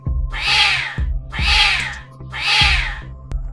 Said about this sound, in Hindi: एक सुबह हारुतो उस आवाज से जागा, तेज, टूटी हुई, दर्द से भरी चीखें जो संकरी गलियों में गूंज रही थीं।